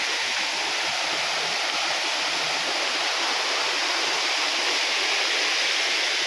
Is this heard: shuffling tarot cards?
no